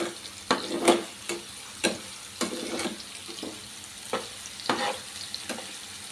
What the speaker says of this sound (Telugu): చూసారు కదండి, ఇలా ఫ్రై అవుతూ ఉంది.